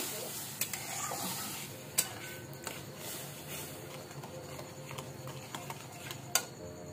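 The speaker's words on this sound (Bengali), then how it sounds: "দু বাটি জল দিয়ে দিলাম, এটা ভালো করে নাড়ি।" Semolina being stirred with water in a pan while making sooji modak, a steady soft scraping and swishing with a few sharper clinks of the spoon against the metal.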